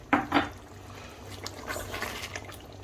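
About half a cup of coconut milk is poured into beef rendang, with a couple of soft splashes at the start followed by a quiet trickling and bubbling liquid sound, close and faint.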